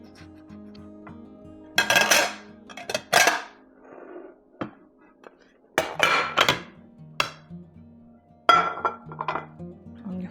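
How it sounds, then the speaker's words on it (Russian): Metal clanks and scrapes come in several bursts with quiet gaps between, as a zebra marble sponge cake is knocked and worked free from its metal baking pan. "Вытащу его из формы."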